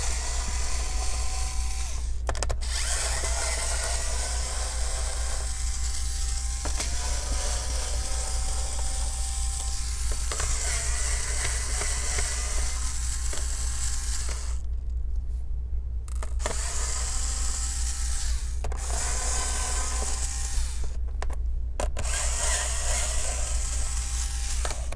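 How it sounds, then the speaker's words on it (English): An electric Phillips screwdriver whirs steadily while removing screws from an Acer Aspire A515-46 laptop, a continuous close buzzing motor drone broken by a few brief ratcheting clicks and short pauses. "I'll be using the electric one, or you can get yourself a manual spinning Phillips screwdriver"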